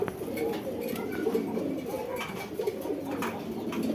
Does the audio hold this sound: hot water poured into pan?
no